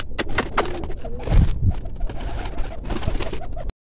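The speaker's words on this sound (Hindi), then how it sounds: "ये अभी देखें सारे कबूतर बाहर आ रहे हैं" Pigeons cooing as they come out of their enclosure, soft low calls repeating under busy background noise and scattered sharp clicks, fairly close, with no talking.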